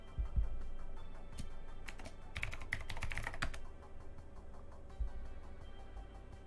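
Keyboard typing clatters steadily for about six seconds, a burst of quick keystrokes in the middle, with an animated fireworks-style typing effect in a code editor and no talking.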